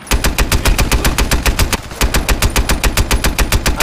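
Loud, rapid automatic gunfire in Crysis 3 multiplayer, in a fast steady rhythm, a brief pause midway, then the burst resumes; no voices.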